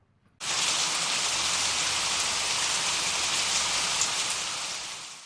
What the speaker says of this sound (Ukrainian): Це злива.